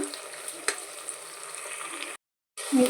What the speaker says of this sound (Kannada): ಸೊ ಅದನ್ನು ಸಹ ಹೀಗೆ ಹಾಕಿ ನಾವು ಇದನ್ನು ಫ್ರೈ ಮಾಡ್ಕೊಳ್ಳೋಣ